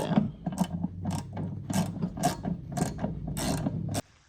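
A ratchet with a T45 bit tightens a bolt on a Camaro bucket seat, giving about eight rapid clicking bursts in a steady rhythm, loud and close, then stopping abruptly.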